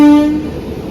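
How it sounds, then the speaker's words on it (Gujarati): An arriving train sounds a loud, close, sustained horn note that cuts off after under half a second, leaving a rumbling vehicle noise behind it. "અહીંયા ગોંધે ટ્રેન આવી ગઈ."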